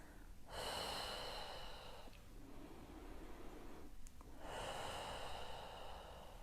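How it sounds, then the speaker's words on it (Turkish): Slow, deep breathing during a seated prenatal relaxation exercise: two long, steady breathy exhalations separated by a short pause, close and clearly audible, with no talking. "Derin nefes burundan alıp ağzımızdan veriyoruz."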